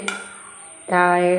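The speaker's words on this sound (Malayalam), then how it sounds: "ഞാൻ മുന്തിരിങ്ങ മാത്രം ഇട്ട് അത് വറുത്ത് കോരിയെടുക്കുവാണേ" A metal spoon scrapes and clinks against a pan while fried raisins are scooped out of hot ghee, one sharp tap followed by a louder, sustained scraping rattle close by.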